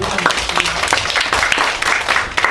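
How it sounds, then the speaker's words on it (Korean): Audience applause at a youth part-time labor debate forum in Bucheon, with dense clapping running steadily through the moment at moderate level, a few sharper claps standing out. "다시 한번 큰 박수 부탁드리고"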